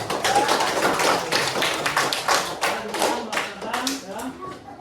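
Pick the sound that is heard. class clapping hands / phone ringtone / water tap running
class clapping hands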